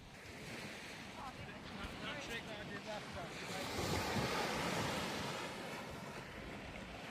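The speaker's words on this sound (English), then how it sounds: "by the Playa de San Juan. Playa de San Juan beach." Sea surf rolls onto Playa de San Juan beach in Alicante, a broad continuous wash of breaking waves swelling mid-way, heard with strong wind buffeting the microphone.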